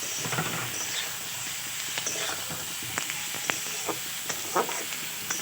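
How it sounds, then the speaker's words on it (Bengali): Onions and potatoes fry in a pan as the first step of a spicy chicken kosha, giving a quiet, steady sizzle. Scattered clicks and taps from stirring come and go. "ভালো করে পেঁয়াজ আর আলুটা ভাজতে হবে প্রথমে"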